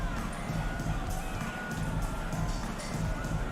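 A large arena crowd in a basketball video game roars and cheers in a continuous wash of noise, steady and fairly distant, with no single voice standing out.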